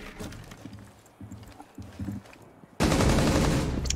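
Gunfire in Rainbow Six Siege: short clipped bursts of shots and scattered footsteps, then an abrupt, loud sustained burst near the end.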